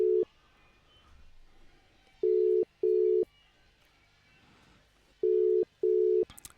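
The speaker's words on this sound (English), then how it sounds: "I'm just calling him out of the blue." An unanswered outgoing phone call, with loud pairs of ringback tones sounding twice, a few seconds apart, over a quiet line hiss and no speech.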